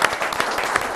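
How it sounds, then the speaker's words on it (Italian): Brief burst of dense applause from an audience at an Italian cycling federation ceremony, loud and steady for about a second. "Allora un applauso oggi."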